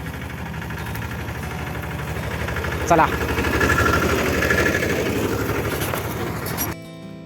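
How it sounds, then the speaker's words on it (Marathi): A small farm tractor's engine runs at idle in a field, a steady close rumbling chug that swells slightly midway before cutting off near the end, with a brief voice over it. "तर मित्रांनो फायनली ट्रॅक्टर आलेला आहे"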